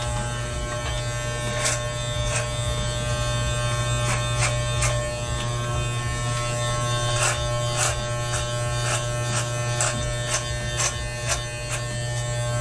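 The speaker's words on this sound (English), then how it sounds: "take a deeper look at Law Nation shaving his head" Electric clippers shaving a man's head, a steady close buzzing drone with small clicks and shifts as the blades move, no talking.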